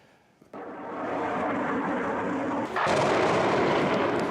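An army airstrike explosion in the centre of Luhansk, eastern Ukraine, caught on a security camera near an administration building and park: a sudden loud blast that becomes a sustained roar, then surges louder a couple of seconds later.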